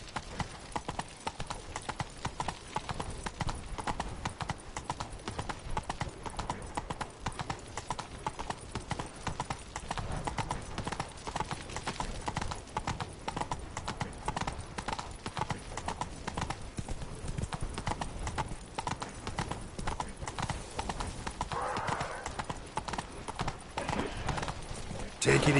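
Hooves of Roach, a horse in the Witcher 3 video game, clip-clop in a steady, fast, even rhythm throughout. A faint whinny appears briefly, and a voice speaks over the hoofbeats.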